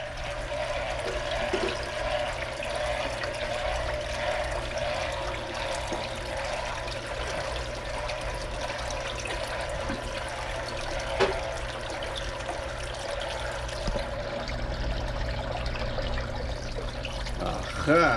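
Marineland Penguin 350 aquarium filter refilling, a steady gurgling trickle and rush of water drawn into the unit, continuous and fairly close, with a low hum underneath and a few small knocks.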